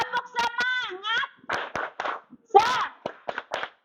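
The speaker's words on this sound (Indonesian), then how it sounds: "Tepuk semangat." Grade 4 schoolchildren in an Indonesian primary school classroom doing a rhythmic spirit clap, several bursts of claps in counted groups mixed with loud chanting children's voices.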